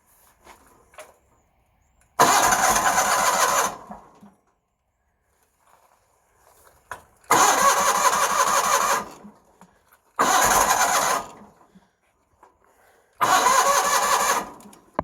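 A John Deere engine cranked without choke, four separate loud bursts of starter grinding and sputtering, each lasting one to two seconds, separated by quiet pauses, never catching into a steady run.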